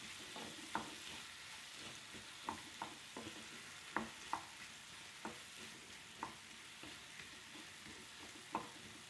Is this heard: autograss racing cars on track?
no